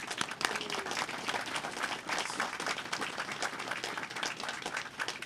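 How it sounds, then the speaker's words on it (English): Applause from the crowd at an outdoor veterans memorial ceremony in a park, steady and moderately distant, with no speech over it. "I think he deserves a round of applause for that"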